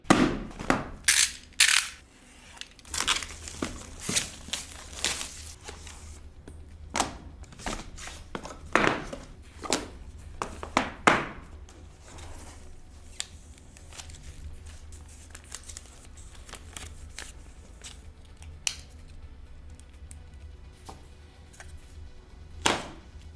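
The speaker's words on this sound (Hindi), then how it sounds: "अनबॉक्सिंग का एक्सपीरियंस आपको मैंने दिखाया" Packaging of an Infinix Note 40 5G phone box is handled close up in quiet ASMR style: sharp clicks, taps and crinkling rustles come in irregular bursts, with no talking.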